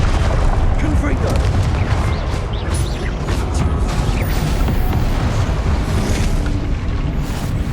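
A Confringo fire spell blasts in Hogwarts Legacy, a loud, dense roar of explosive booms and crackling debris running continuously amid heavy game combat noise.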